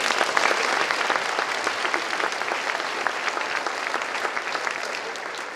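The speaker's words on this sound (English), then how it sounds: "give them a round of applause" Sustained audience applause at a school DARE program graduation, a steady dense patter of many hands clapping throughout with no talking.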